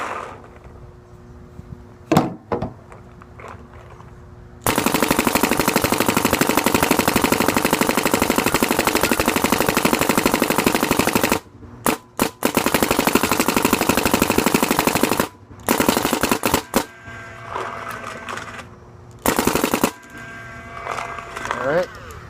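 Planet Eclipse GSL paintball marker, tuned, firing long rapid strings of shots in loud sustained bursts, broken by pauses and a few short bursts, with quieter gaps between.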